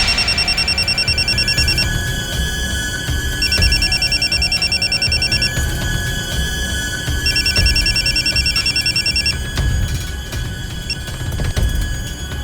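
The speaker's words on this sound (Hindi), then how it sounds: "फिर मैंने वसीम के फोन पे कॉल किया था।" A telephone rings loudly during an outgoing call in a Hindi courtroom drama, sounding three electronic ring bursts of about two seconds each, separated by short pauses, with no one speaking.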